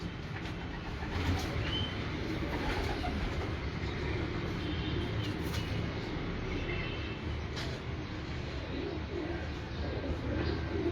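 Pigeons on a rooftop loft, with low, murmuring coos under a steady, dense wash of outdoor background noise throughout.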